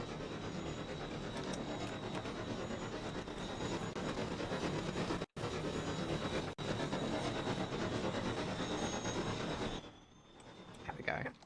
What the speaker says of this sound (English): That's one of our passenger trains heading south for Plymouth.